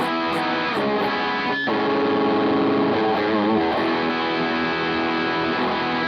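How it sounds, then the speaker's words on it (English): An electric guitar through a Wampler Collective Series distortion pedal in classic mode rings out as loud, thick, saturated sustained chords with a vintage cranked-amp character, playing continuously without any voice. "the classic mode has a very spongy distortion sound, kind of like a vintage amp turned up all the way"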